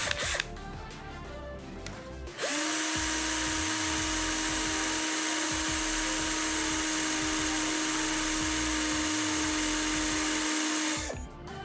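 A cheap Sunc S12 12V cordless drill spins up and runs at gear 2, a loud, steady high-pitched whine held for about nine seconds before cutting off, after some brief handling noise.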